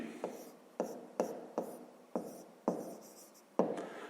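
Pen or pencil strokes on paper while working a fifth-grade maths exercise on area units, seven quick scratchy strokes spaced about half a second apart, close and fairly quiet, with no talking.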